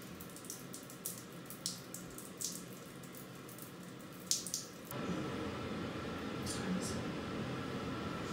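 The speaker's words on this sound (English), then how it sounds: "we've got some cats that absolutely love it when you turn on the rain shower for them." Rain shower water runs steadily, with a louder, fuller spray in the second half, while cats are nearby; a voice speaks briefly over the hiss.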